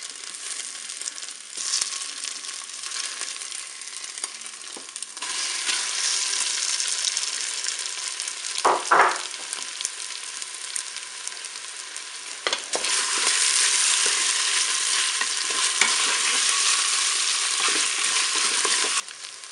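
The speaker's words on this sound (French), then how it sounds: "Je vais pouvoir faire revenir ma viande hachée que j'ai coupée, mes steaks hachés que j'ai coupé en morceaux." Chopped minced beef steak pieces browning in a Cookeo multicooker, a loud, steady frying sizzle that swells louder partway through, broken by a few scraping stirs and a sharp clatter of a utensil.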